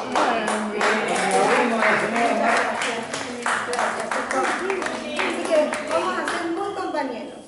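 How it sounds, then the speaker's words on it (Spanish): Audience at a care home claps for a visitor, a steady patter of many hands lasting several seconds at moderate level, with some voices mixed in. "vamos a aplaudirle un poquito a Marta."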